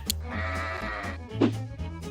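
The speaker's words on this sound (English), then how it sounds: "We have an adorable sheep" A sheep gives one long, wavering bleat up close, over a low steady background hum, followed by a shorter sharp cry.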